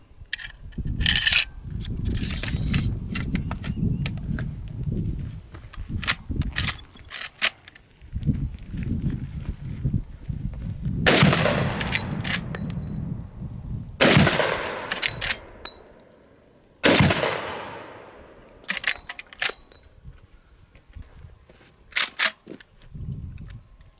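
A Henry 45-70 Government lever action rifle fires 300 grain rounds outdoors, with several loud, sharp cracks spaced seconds apart and lever clicks and handling noises in between.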